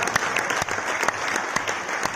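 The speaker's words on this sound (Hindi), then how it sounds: "तो एक बार जोरदार तालियां हमारे R&D टीम के लिए" Loud applause from an audience at a product launch event, honoring a research and development team, a dense, continuous burst of clapping lasting about two seconds.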